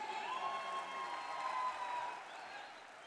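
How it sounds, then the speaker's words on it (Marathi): Sustained applause and cheering from a large crowd at a Shiv Sena political rally in Maharashtra, a dense steady roar of clapping that eases slightly toward the end. "टाळ्या जोरात झाल्या पाहिजेत।"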